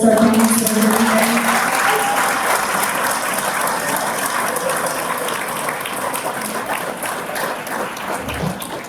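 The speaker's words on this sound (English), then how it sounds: "Can you give a round of applause to the Gold Star families?" A large gala audience at an awards event applauds steadily for Gold Star families, a dense, sustained clapping that fades slightly over nine seconds, with a voice briefly audible at the start.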